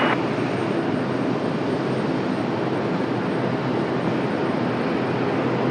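An Alaska Airlines jet taking off from runway 23 right at Raleigh-Durham International Airport, heard as a steady, loud, broadband engine roar that holds unbroken throughout, with no voices.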